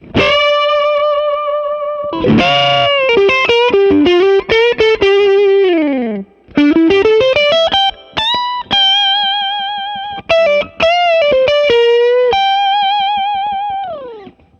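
A single-coil electric guitar plays through a Venus 3 amp with preamp gain raised, giving a loud overdriven tone in a continuous run of bent and sliding notes and chords with brief gaps.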